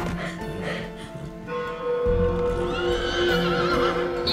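A horse whinnies loudly and close by, a long shrill neigh rising and wavering over low rumbling movement.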